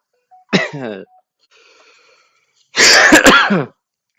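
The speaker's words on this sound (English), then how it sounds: "A cough fit." A burst of harsh coughing, close and loud: one rasping cough, a brief gasp, then a rapid cluster of several hacking coughs.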